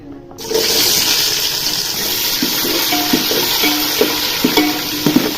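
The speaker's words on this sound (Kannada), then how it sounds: "ಎಣ್ಣೆ ಸ್ವಲ್ಪ ಫ್ರೈ ಆಗಬೇಕು ನೆಕ್ಸ್ಟ್ ಈರುಳ್ಳಿ ಹಾಕ್ತಿದ್ದೀನಿ" Onions dropped into hot oil already seasoned with bay leaf and fennel in a pan, a steady loud sizzle and hiss with light stirring clinks and scrapes running throughout, no voices.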